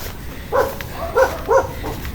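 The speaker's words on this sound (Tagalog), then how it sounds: "Ay, may aso." A dog barks three short times in quick succession, moderately close, with a faint fourth yip at the end over quiet background.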